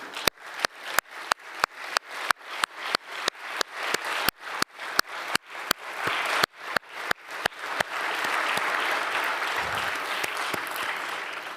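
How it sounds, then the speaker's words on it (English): An award-ceremony audience applauds two laureates at the 2021 Mendeleev Prize, starting with a few sharp, evenly spaced individual claps that swell after several seconds into a full, steady wash of crowd applause. "once more a big hand of applause to our two laureates"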